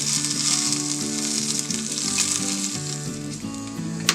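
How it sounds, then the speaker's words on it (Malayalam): Mustard seeds, dried red chillies and curry leaves sizzle in hot coconut oil, a loud continuous crackling fry with light stirring, close and without speech. "ഉണക്കമുളക് മൂക്കുമ്പോൾ കറിവേപ്പില ഇട്ട് കൊടുക്കാം"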